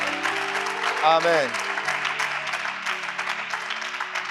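Church congregation applauding and cheering for Jesus during a French-language sermon, a steady wash of clapping with a swell of voices, and someone says a word partway through.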